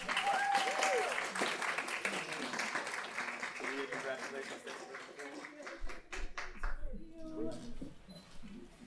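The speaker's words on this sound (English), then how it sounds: "let's give it up for Kalia." Audience applause and cheering at an internship celebration, a busy wash of claps with whoops and shouts that thins out and fades toward the end as voices take over.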